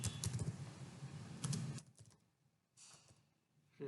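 Fingers type on a computer keyboard close by, with rapid bursts of soft clicky keystrokes, a short pause, then a few more key taps.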